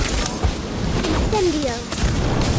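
A gust-of-wind spell from the Harry Potter Magic Awakened video game, swirling whoosh with pitched sweeping tones and intermittent booms under a loud, crowded battle mix.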